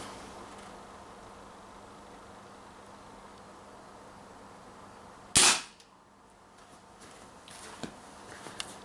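A single sharp crack from a Marlin CO2 revolver firing 6mm 0.4 gram BBs, coming after several seconds of quiet room noise and followed by a few faint clicks.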